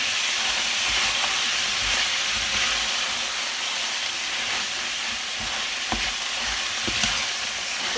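Minced meat frying in a little oil gives a constant, moderately loud sizzle and hiss, with a few soft clicks and scrapes of stirring mixed in and no voices over it.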